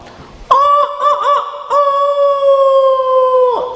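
A man imitates a rooster crowing during a religious lecture. One loud, close, drawn-out vocal crow with wavering pitch at the start settles into a long sustained tone before breaking off abruptly.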